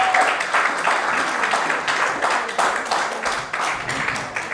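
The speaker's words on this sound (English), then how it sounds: "Please give him a round of applause" Audience at a St. John branch meeting applauds Shadow Minister Walter Maloney with a steady, dense round of clapping that holds at a moderate level throughout.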